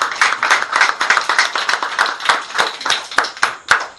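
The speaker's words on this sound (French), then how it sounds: "Applaudissons pour le Seigneur." A congregation claps for the Lord in church with loud, fairly rhythmic hand claps, a steady beat of sharp slaps close by running for about four seconds without talk.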